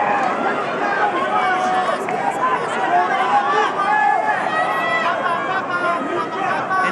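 Boxing arena crowd at the Pacquiao vs Barrios fight, a steady roar of chatter and shouting that holds at the same level throughout, with voices rising out of the crowd noise.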